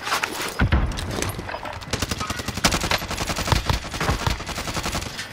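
Rapid automatic gunfire in the Call of Duty: Modern Warfare video game crackles in fast, uneven bursts, loud and close, with sharp individual shots cutting through a continuous firefight.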